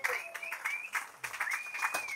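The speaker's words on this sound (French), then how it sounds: "Donne-moi un applaudissement." A crowd at a comedy show in Beauceville applauds, a fairly faint, continuous patter of clapping mixed with high whoops and whistled cheers rising and falling across the crowd.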